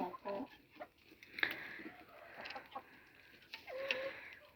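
Hens cluck softly and intermittently at close range, with a few sharper calls and faint background rustling.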